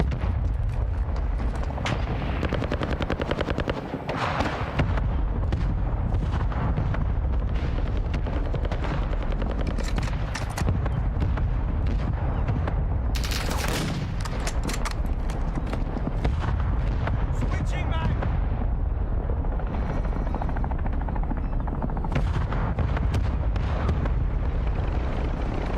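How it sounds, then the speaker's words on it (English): Mortar strike explosions in Call of Duty Warzone battle royale, loud booming blasts and rumbling over a constant heavy roar of engines and gunfire, dense and continuous throughout. "Hostile mortar strike incoming"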